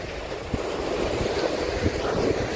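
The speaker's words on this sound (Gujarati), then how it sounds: "કેવો દરિયો શાંત દરિયો છે એમ તો" Sea surf washing against a calm shore with steady wind buffeting the microphone, a continuous broadband rush with soft low thumps of breaking waves and no speech.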